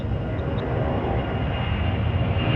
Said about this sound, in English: it's a Canadian C-17